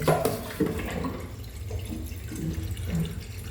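Water runs from a tap into a container in a kitchen, a steady close gurgling splash with a few clunks at the start, no talking.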